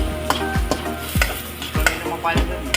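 Shrimp with garlic and ginger sizzle in a pan for a Filipino tofu soup, a steady close fry punctuated by about five sharp spatula scrapes at regular intervals, with no one talking.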